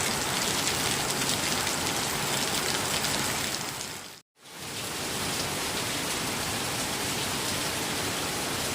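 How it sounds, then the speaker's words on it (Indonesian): Heavy rain pours down in a village in the late afternoon, a dense, loud, unbroken hiss of drops on surfaces, briefly cut to silence midway before resuming just as strongly. "Makin sore semakin deras ya teman-teman hujannya."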